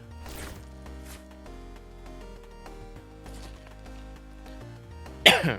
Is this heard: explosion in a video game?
no